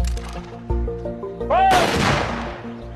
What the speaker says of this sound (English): Gun salute, formation! Ready!